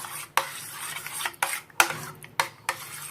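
Apricot jam loosened with a little water is stirred in a pot or bowl, giving about six sharp scraping clinks spaced roughly half a second apart, close and clear, with no talking.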